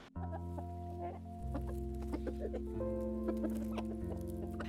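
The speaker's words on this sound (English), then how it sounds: "So these hens are to produce eggs" Egg-laying hens cluck repeatedly over a constant low mechanical hum, several birds close by in a caged, enclosed space.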